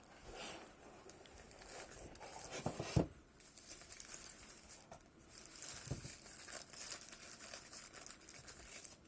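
A plastic bag holding a SweetLF SWS7105 electric shaver crinkles and rustles close up while it is unboxed, with soft irregular crackles and a couple of sharper handling thumps, faint and alone.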